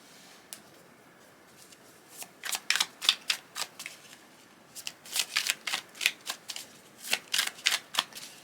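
Relationship oracle cards being shuffled for a love card reading, heard as a run of crisp riffling bursts, a few scattered at first, then quick clustered shuffles close up, with no talking.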